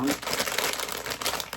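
A toy box's packaging crinkles and crackles as it is torn open to reach a Pop Mart Mickey family key chain figure, a dense run of close, steady rustling that goes on for about a second and a half.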